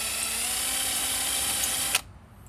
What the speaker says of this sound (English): we're just going to drill straight down through so that we can save the fitting